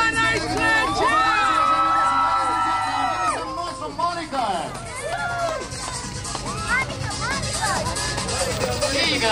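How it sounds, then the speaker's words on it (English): A group, including excited children, cheers and shouts with high, rising whoops during a celebratory photo session for a pretend princess, the noisy babble swelling and then breaking into scattered yells and chatter. "our Royal Highness, Princess Monica, nice grand cheer!"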